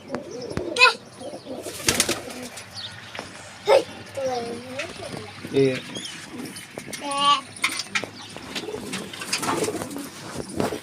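Domestic pigeons coo repeatedly, close and fairly loud, while someone talks over them and other faint animal sounds mix in.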